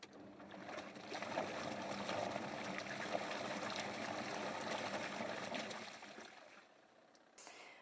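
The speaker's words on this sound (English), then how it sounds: "You can probably hear it spinning around in here." An off-grid washing machine drum turns steadily, giving a continuous sloshing, watery churn close by with no talking.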